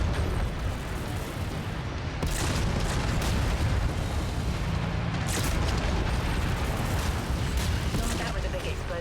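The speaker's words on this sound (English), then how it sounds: "That was a big explosion." A big explosion in the MechWarrior 5 video game, a sustained loud roar of blasts and rumbling combat noise, with dense broadband bursts layered over continuous battle sounds.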